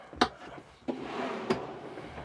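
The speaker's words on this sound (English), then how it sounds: "I'll just show you some of these little drawers." A small molded soft-close drawer in a camper cabinet shuts with a light wooden knock, a soft sliding glide, then a second muted bump, close and clear with no talking.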